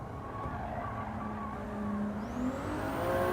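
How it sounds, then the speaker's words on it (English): Transmission whine from a 2007 Subaru WRX in a racing game: a faint rising gear whine over low road noise, climbing higher as the car accelerates, with little engine sound. "I think it's the 2007 WRX, where you don't really hear the engine very much at all, you just hear the transmission whine"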